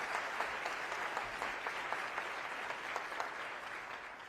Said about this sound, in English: Can we give her another round of applause for doing a fantastic job?